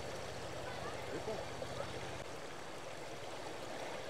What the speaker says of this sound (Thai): น้ำว่องกลางนี่ไหลแห้งเนาะมันออกมาจากถ้ำมาแล้วเนาะ